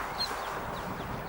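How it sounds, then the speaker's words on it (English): Recorded duckling chick calls played outdoors to draw out a mother duck: a few thin, high peeps rise faintly over steady background noise. "See what her reaction is when she hears the chicks."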